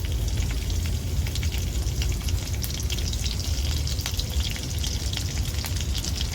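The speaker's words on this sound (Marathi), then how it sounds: "तीन हिरव्या मिरच्या बारीक कापल्यात त्या पण घालून घेते मी तेलात" Finely chopped green chillies and reddened garlic fry in oil, making a loud, steady, dense sizzle with crackling pops that continues without a break.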